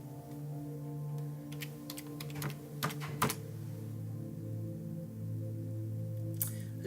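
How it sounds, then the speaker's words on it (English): Typing on a computer keyboard while logging into WinDev software, ending with the enter key: a run of close, crisp keystrokes over a steady electronic hum. "I hit the enter key as opposed to clicking on the validate button"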